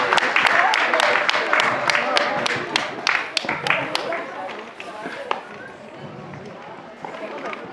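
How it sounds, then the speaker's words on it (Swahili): Audience applause at a March 8 women's day celebration in Linköping, Sweden, with a series of sharp claps that gradually thin and fade, and a voice speaking over them. "Makofi jamani, makofi."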